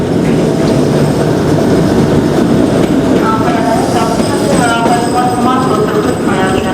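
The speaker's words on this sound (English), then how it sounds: "Okay, train is coming, but not like a big full train," A lone train locomotive arrives at Ulaanbaatar station in Mongolia with a steady rumble, rising rail clatter and faint wheel squeal that grow louder toward the end.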